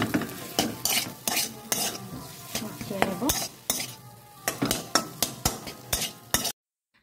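Potato mixture with homemade garam masala stirred in a pan: repeated rhythmic scraping strokes over a soft sizzle, close and moderately loud, then ending abruptly in silence.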